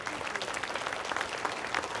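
An indoor audience at a National Hispanic Heritage Month event claps steadily, a brief burst of dense applause heard from within the room.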